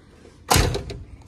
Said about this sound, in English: look at where that door shut